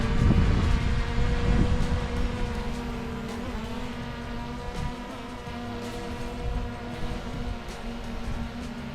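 DJI Air 2S drone motors spin up for takeoff, a loud rising whir with steady tonal hums that settles into a continuous buzzing drone outdoors with some wind.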